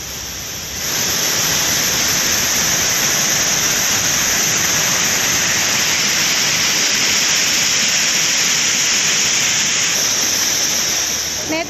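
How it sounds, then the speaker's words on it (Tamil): Courtallam waterfalls in Tamil Nadu swollen by heavy rain roar in a loud, steady rush of gushing water that begins after a brief quieter moment and holds unbroken throughout. "குற்றாலத்தில் அனைத்து அருவிகளிலும் தண்ணீர் ஆர்ப்பரித்து கொட்டுகிறது"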